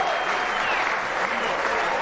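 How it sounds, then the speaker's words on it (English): Home crowd at an Australian football match applauding a goal, a continuous dense roar of clapping and cheering filling the whole stretch. "Sends the home crowd into a great round of applause."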